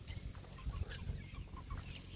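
A chicken pecks and clucks softly in a wet field, giving a few quiet, scattered clucks over faint outdoor background noise, with no talking.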